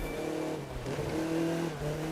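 An Audi TT RS Roadster engine revs in The Crew 2 racing video game, a steady, close, loud tone that rises slightly in pitch midway and then settles, with no talking over it.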